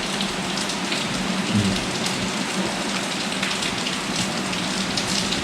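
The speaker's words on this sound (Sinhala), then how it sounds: "ඕගාල වහිනවා." Heavy rain falls continuously, a thick even hiss of drops spattering on surfaces with no talking.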